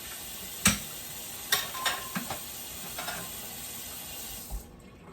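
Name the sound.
rinsing something out under running tap water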